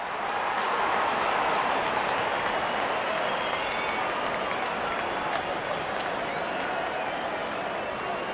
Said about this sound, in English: the crowd are jeering them on